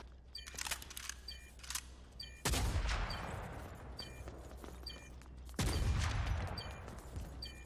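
Gunfire in the Rogue Company shooter, heard as two heavy bursts of shots with sharp clicks and mechanical game sounds between them, loud and close, no talk.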